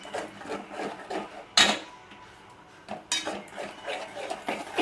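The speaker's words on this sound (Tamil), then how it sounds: "இப்போ இந்த முட்டையை வந்து இதோட ஊற்றிக்கலாம். இப்போ நல்லா நம்ம கிண்டிக்கலாம்." Beaten egg is stirred into rice in a pan, and a utensil clatters and scrapes against the metal in uneven bursts, with a few sharper knocks among softer rubbing strokes.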